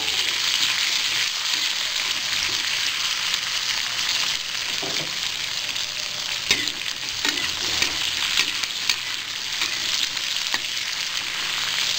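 Onions frying in oil in a pan, a loud steady sizzle throughout with occasional scraping and stirring knocks from a spoon, close and unbroken, no talking.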